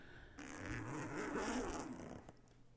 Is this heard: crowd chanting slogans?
no